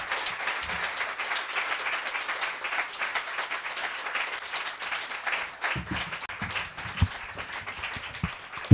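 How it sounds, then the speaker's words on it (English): An audience at a literary reading applauds, a dense, steady patter of many hands clapping continuously, moderately distant in the room, with a few louder individual claps near the end. "Please give another round of applause to all our readers tonight, all of our fellows and our mentors."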